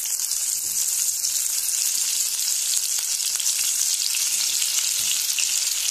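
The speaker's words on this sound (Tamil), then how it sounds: "நெய் சூடாயிடுச்சு. இப்போ வந்து நம்ம பன்னீரை போட்டுக்கலாம்." Paneer frying in hot ghee in a pan: a dense, even, close-up sizzle that holds steady from start to finish, with no voices.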